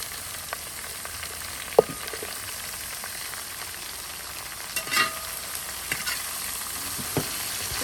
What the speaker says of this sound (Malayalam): ഇത് നമ്മൾ നന്നായിട്ട് വഴറ്റിയെടുക്കണം